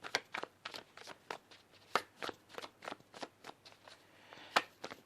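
Tarot cards shuffled by hand in a quick, steady run of crisp riffling flicks, close and fairly quiet, with no talking.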